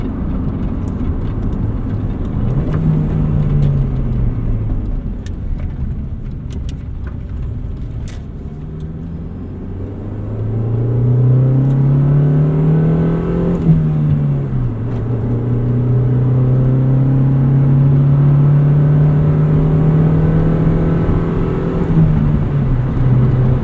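A Honda Civic Si engine revs while the car is driven, giving a close, loud rumble that rises and falls in pitch as it pulls through the gears. There is no talking.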